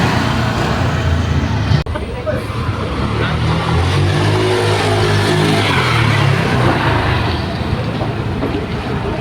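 A Honda Click 125 V2 scooter engine runs steadily on a test drive after a throttle position sensor replacement, a constant loud drone with road and wind noise and a brief sharp knock near the start.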